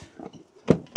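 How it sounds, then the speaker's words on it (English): A VW T6.1 camper van door being opened slightly: a faint rustle, then a sharp mechanical clunk and a second brief click close by, with no talking. "you open the door up slightly"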